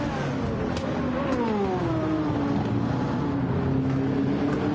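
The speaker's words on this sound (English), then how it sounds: "engine sound just 10 out of 10" A car engine in Gran Turismo 7 played in VR on PSVR2 sings a steady, loud tone that sweeps down in pitch as the gears shift and then holds near one note, with no talk over it.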